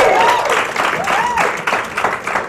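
A room full of people applauds visiting business-school students at a marketing gathering, a dense steady clapping with a few cheers and voices mixed through it, fairly loud and continuous.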